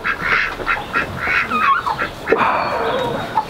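A group of ducks kept indoors in New York City, heard through a window, quacking repeatedly in a busy, overlapping chorus at moderate distance.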